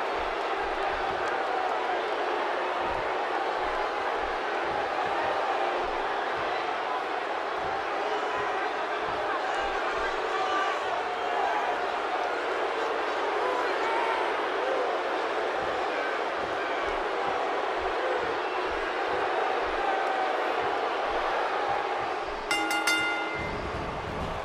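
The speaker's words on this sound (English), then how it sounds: "this capacity crowd is on its feet right now" A packed wrestling arena crowd in WWE 2K18 roars in a steady, broad wash of cheering that holds at an even level throughout, with a short sharp clatter near the end.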